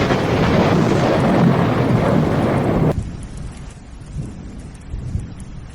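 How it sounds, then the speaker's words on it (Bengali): A cartoon thunderstorm: heavy pouring rain and deep rolling thunder roar loudly, then cut abruptly to a quieter, sparse patter of rain. "এই ঝড়"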